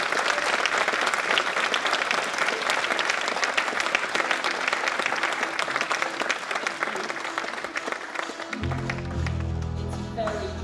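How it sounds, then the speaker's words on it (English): Sustained audience applause fills a college student awards ceremony, steady and dense clapping from a large crowd, with music swelling in near the end. "So can we please have a round of applause?"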